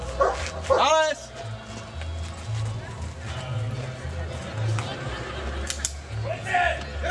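A police dog barks in several quick, loud, close yelps at the start, followed by shuffling and movement while people talk.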